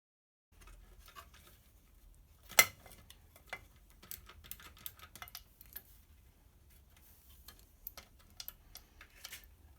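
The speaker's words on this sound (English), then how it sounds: "We can simply remove these upper bolts." Bolts are removed one by one from the oil cooler of a GSF Bandit 1200 motorcycle, giving quiet, irregular metallic ticks and clicks with one sharper knock, close up and otherwise near silent.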